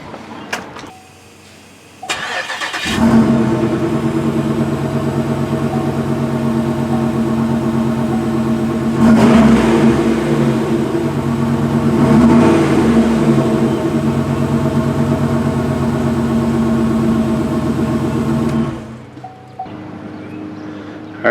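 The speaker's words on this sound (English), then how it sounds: "First thing we're going to do is a sound clip of the stock exhaust." A 2007 Chevrolet Monte Carlo with the LS4 V8 on its stock exhaust starts up and idles with a deep, steady drone, revs rise twice in the middle, then the engine cuts off near the end.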